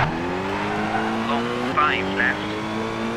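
Rally car engine in the video game McRae rally on a tarmac stage, a sustained high-revving drone with a gear shift and brief tire squeals, while someone talks excitedly over it.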